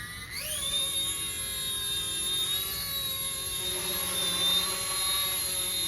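An RC MD 500 scale model helicopter flies with a high, whining turbine-like drone that rises in pitch as it spools up, then holds steady and close throughout.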